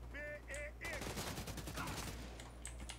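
Rapid, overlapping bursts of gunfire in the video game The Division 2, a dense sustained barrage with a few short tonal beeps just before it starts.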